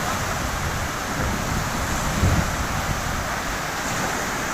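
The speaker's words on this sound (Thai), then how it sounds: "ก็ไหลออกมาจากประตูระบายน้ำครับ" Water from the overflowing Huai Sanaeng reservoir gushes hard out of an opened floodgate and swirls back, a dense, loud, unbroken roar heard close up.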